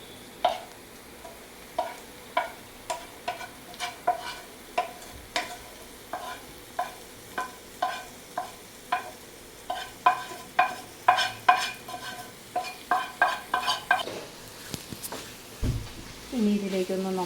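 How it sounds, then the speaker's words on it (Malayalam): Chicken liver and other chicken parts fry in masala in a pan while a spoon scrapes and stirs in a steady, repeated rhythm over a soft, constant sizzle. A voice talks over the cooking. "ഇതിലേക്ക് നമ്മൾ ഈ ലിവർ ഇത് ചിക്കൻ്റെ പാർട്സ് ഇതാക്കി വെച്ചിരിക്കുന്നത് ഇട്ട് കൊടുക്കുകയാണ്."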